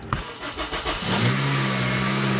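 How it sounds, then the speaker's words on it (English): Acura RSX Type S engine cranking briefly with a few rhythmic starter pulses, then catching and settling into a steady, close idle after a coolant flush. "It is ready to go, so I'm gonna turn the car on."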